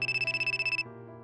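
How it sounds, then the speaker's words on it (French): A telephone rings with a rapid electronic trill, a pulsing burst of repeated tones that stops abruptly and gives way to a softer sustained tone. "ton téléphone sonne"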